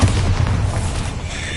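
Bombarda explosion spell from Hogwarts Legacy, a deep, close booming blast that rumbles and fades over a second and a half.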